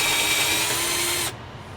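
A power drill drives a 4-inch deck screw into pressure-treated lumber for a raised garden bed frame, a loud, close, steady whine that cuts off abruptly after about a second and a quarter.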